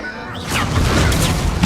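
An Incendio fire spell in Hogwarts Legacy erupts as a loud, dense whooshing roar of flame that swells quickly and holds for over a second.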